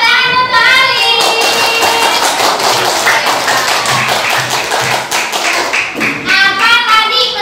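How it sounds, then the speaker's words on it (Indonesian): A classroom of pupils clapping hands in quick rhythmic unison for a classmate who answered correctly, close and loud, with children's voices calling out at the start and end. "tepuk tangan untuk Alif."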